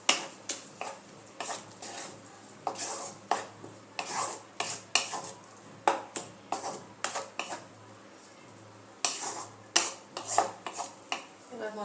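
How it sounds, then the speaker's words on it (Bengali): A spoon stirs and scrapes chana masala spices in a metal pan with a little added water, producing quick repeated clinks and scrapes in uneven bursts, close and fairly quiet. "ভালো করে এবার মিশিয়ে নেব মশলাটা।"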